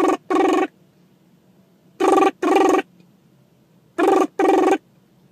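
A telephone rings in three double bursts, each pair of trilling rings followed by a pause, loud and close with no talking.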